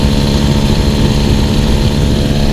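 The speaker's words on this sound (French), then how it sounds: "Écoutez le moteur qui force." A moped engine strains hard at full throttle while climbing a steep hill on Corsica, giving a loud, close, continuous buzzing drone with no talk over it.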